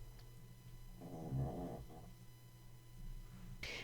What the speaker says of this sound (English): if you're just tuning in and you're hearing strange snoring, that is my Chihuahua